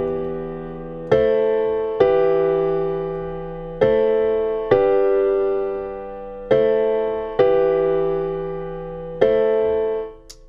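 Piano plays the opening chords of a song, a slow series of sustained struck chords, about eight in all, each ringing and decaying before the next, close and clear with no talk.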